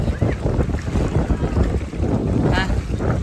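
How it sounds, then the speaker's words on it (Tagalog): Strong wind buffets the microphone in a steady, loud roar, with voices talking faintly underneath. "sobrang lakas ng hangin din."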